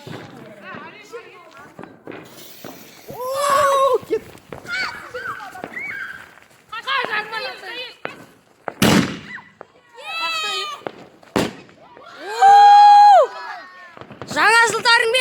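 New Year fireworks go off with two sharp, isolated bangs among lively voices talking and calling out nearby.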